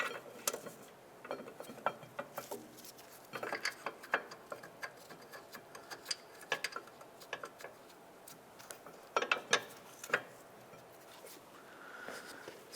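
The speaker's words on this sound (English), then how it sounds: "bolt it back up." Faint, irregular ratchet clicks come from a socket wrench tightening the rear caliper bracket bolts back onto the knuckle of a 2007-2010 Chrysler Sebring, in short, scattered bursts against quiet background.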